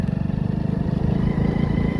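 A motorcycle ridden home from a cotton field, its engine giving a steady, close, low rumble that holds without a break.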